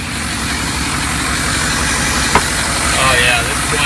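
An aftermarket car exhaust leaks at a joint, giving a steady broadband blowing hiss over the low rumble of an idling engine, close up and continuous, with a brief click partway through.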